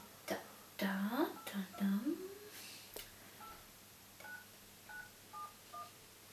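A quick series of telephone DTMF keypad tones, several short beeps spaced unevenly as a number is dialed, with brief murmured voice at the start.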